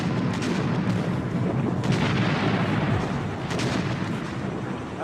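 The 127 mm anti-aircraft gun of the Japanese battleship Yamato fires heavy time-fused shells that burst in the air, heard as a series of loud, booming blasts in quick succession with rumbling echoes between them.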